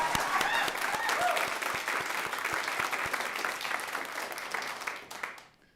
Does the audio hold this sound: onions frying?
no